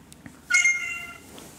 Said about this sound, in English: Well, the cat is now part of the episode.